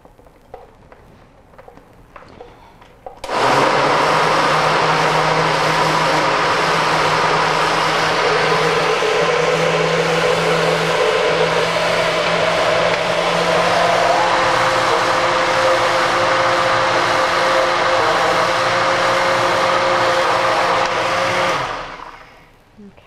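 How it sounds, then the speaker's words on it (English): A kitchen blender whirs loud and steady, grinding sunflower seeds and bananas for raw protein cookies, starting abruptly after a few quiet seconds and running continuously for most of the clip before winding down. "Add more sunflower seeds. Whoops. And we'll blend those."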